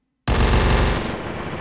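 Hacked SVD rifle in the video game Garena Free Fire, firing a loud, dense burst of rapid shots that blur into one continuous roar after a moment of silence.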